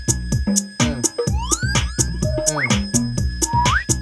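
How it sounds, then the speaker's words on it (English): Whistle sound effects, doubled, detuned and run through distortion, form a tonal electronic riff of sliding pitch bends and short stabs over a pulsing low beat in a house music track. "It's doubled and detuned through a distortion. They're all whistle sound effects."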